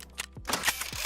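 Fireworks set off outside produce several faint, sharp cracks and pops scattered over a second, distant and muffled, with no speech.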